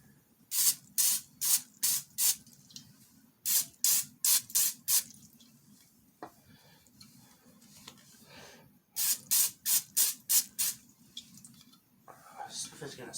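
Carb cleaner sprayed from an aerosol can onto a computer chair part, in three clusters of short, sharp hissing bursts fired in quick succession, with quiet pauses and a low background murmur between them.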